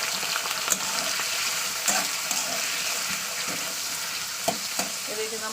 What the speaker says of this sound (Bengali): তেলটা আমার এদিকে গরম হয়ে গেছে। এবার আমি দিয়ে দিচ্ছি যে আলুটাকে কুটে রেখেছে